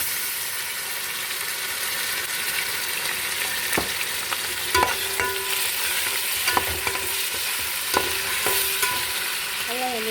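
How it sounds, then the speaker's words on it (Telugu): Ginger garlic paste frying and sizzling in a pot for Kadapa-style mutton biryani, a steady close hiss broken by scattered scrapes and clinks of stirring. "ఇప్పుడు అల్లం వెల్లుల్లి పేస్ట్ అయితే వేసేద్దాం."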